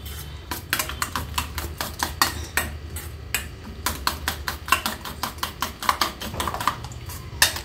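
Eggs whisked with salt and spices in a bowl for a cheese omelet sandwich, a rapid series of sharp, steady clicking taps against the bowl continuing throughout, close and fairly loud with no talking.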